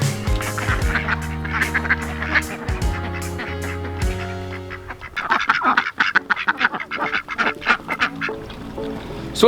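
A homestead flock of ducks mixed with chickens quacking and honking loudly and close by, repeated overlapping calls in busy bursts, with no talking.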